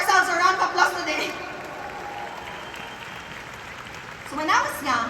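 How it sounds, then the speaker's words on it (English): Audience applause at a talk swells faintly in the middle, while a voice speaks over the opening and closing seconds. "Can we all give ourselves a round of applause today?"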